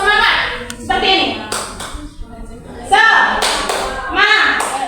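Rhythmic hand clapping of the tepuk semangat classroom clap, several sharp claps and taps in a patterned sequence, mixed with spoken instructions and short vocal responses.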